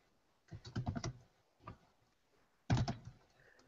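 Bursts of typing on a computer keyboard, quiet and close: a quick run of keystrokes, a lone tap, then a final sharp cluster of presses.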